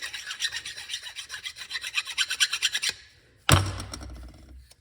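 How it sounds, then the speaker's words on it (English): A flat file rasps across the edge of a metal shackle bushing for an M715 army truck in rapid, rhythmic back-and-forth strokes, then stops; a single dull clunk follows as the part is set down. "Take a flat file."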